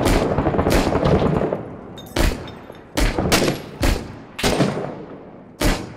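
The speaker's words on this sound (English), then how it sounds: "Oh, I hear shots." Gunfire in the Six Days in Fallujah video game, a series of sharp, loud rifle shots and short bursts in irregular clusters, some close and cracking, others trailing off with echo.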